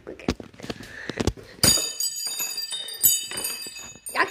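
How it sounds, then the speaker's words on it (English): An electronic doorbell chimes in a Five Nights at Freddy's fan video game, a bright ringing tone that starts midway and sustains, with a person's voice and exclamations heard around it. "I'm gonna ring the doorbell"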